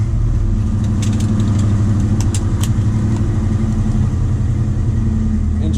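A 1968 Ford Mustang with a swapped fuel-injected 5.0 302 V8 idles steadily, a loud, close, even engine rumble that holds for several seconds without revving.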